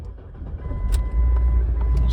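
A 2006 Ford Focus ZX4 SES, recovered from a wreck, cranks briefly and catches, then settles into a steady, loud, close idle that rumbles through to the end.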